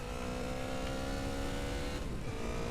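A GTA San Andreas motorcycle engine drones steadily with a buzzing tone, its pitch shifting slightly near the end.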